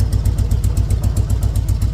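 A 2003 Harley-Davidson Road King engine idling up close, a steady loping rumble with even, rapid pulses, loud and running alone without talk.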